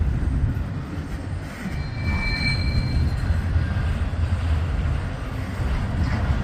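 A train rolls steadily past on a railway line, a continuous low rumble of wagons with brief faint wheel squeals, heard from nearby with no talking.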